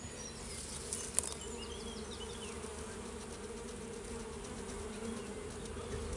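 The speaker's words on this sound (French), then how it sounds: "Je pense bien qu'il y a une abeille ou deux qui va venir se coller dessus dans 2 secondes." Honeybees buzz steadily around a newly installed beehive in a backyard apiary, a dense, continuous drone with individual bees passing close by, with no voices.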